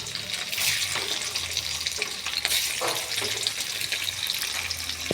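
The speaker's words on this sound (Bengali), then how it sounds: "এবার এর মধ্যে আমি পনিরগুলো একে একে ছেড়ে দেব।" Paneer pieces frying in ghee with a spoon of white oil in a pan for badshahi pulao, a steady close hiss and sizzle throughout with faint clinks and stirring, no voices.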